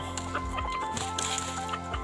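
Short-legged bantam chickens, black, white and yellow birds kept at a rural Thai home, cluck softly in steady short bursts nearby, with a low constant hum underneath and no talking.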